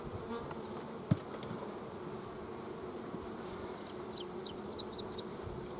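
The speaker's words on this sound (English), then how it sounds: "you can see on the other side, there's 1, 2, 3, 4 bees" Bees buzz close by in a steady, moderately faint drone that persists throughout, with a brief thump early on and no voices.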